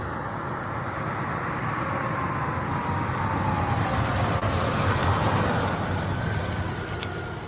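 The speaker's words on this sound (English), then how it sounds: "what'd you guys think of my sleeper car there?" A sleeper car's engine drones steadily nearby, a loud, continuous broadband roar with a slowly rising tone, like a vehicle accelerating past.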